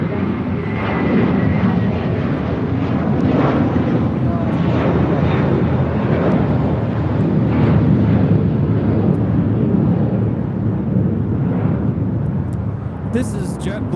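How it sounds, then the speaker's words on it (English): A JetBlue Airways A321 jet taking off toward JFK gives a loud, sustained broadband engine roar that holds steady throughout, with people talking faintly underneath. "This is JetBlue Airways, flight 624, taking off to JFK on an A321"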